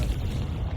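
A Confringo blasting spell goes off in the video game Hogwarts Legacy: a short, loud, low rumbling boom that fills the brief moment without any break.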